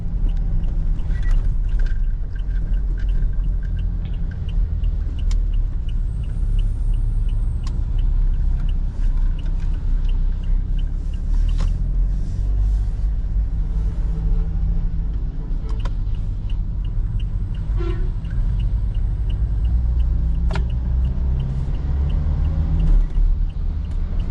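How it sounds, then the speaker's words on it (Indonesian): A Toyota Innova Reborn diesel with manual gearbox climbs a slope in second gear on a forest road, its engine giving a steady low rumble and drone from inside the cabin, with faint ticks and road noise throughout. "Kita di gigi 2 karena jalannya agak nanjak."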